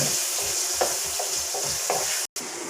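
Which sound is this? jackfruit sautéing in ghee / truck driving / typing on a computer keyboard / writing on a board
jackfruit sautéing in ghee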